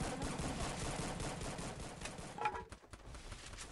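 Rapid automatic gunfire in a shooter video game, a dense rattling stream of shots at moderate level that thins out and stops abruptly near the end.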